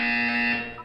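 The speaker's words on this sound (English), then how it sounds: "You will hear a buzzer." Sustained electronic buzzer tone from the Portal 2 test chamber wellness exercise, a steady harmonic drone held for nearly a second at constant loudness before trailing off.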